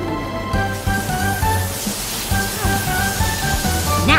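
A cartoon car wash spraying paint, a steady hissing spray under bright, bouncy children's-show music with rhythmic bass notes, ending in a rising whoosh.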